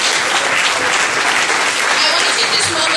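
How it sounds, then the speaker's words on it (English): Dense, steady applause from a large audience at a women's summit morning stage in Northern Virginia, filling the room evenly without a pause. "So give yourselves a round of applause."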